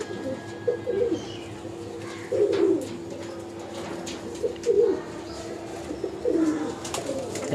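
Pigeons coo repeatedly at a busy pigeon market where red Girebaz and black Sirajul birds are sold, with soft rounded coos recurring every couple of seconds over a steady murmur of background crowd noise.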